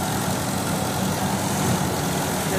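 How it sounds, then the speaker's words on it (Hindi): A sesame seed oil crusher machine runs steadily in Punjab, Pakistan, with a continuous low mechanical engine-like hum and drone throughout, loud and close, with no talking. "ये भाई जो है ना तिल जो क्रैशर के अंदर डाल रहे हैं"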